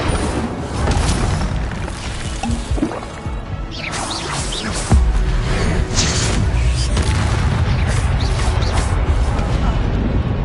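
Spells cast in the video game Hogwarts Legacy make a dense run of magical bursts, whooshes and impact booms, with a heavy hit at about five seconds and a busy, loud mix throughout.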